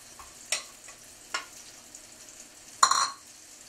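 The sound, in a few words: plantains frying and browning in a pan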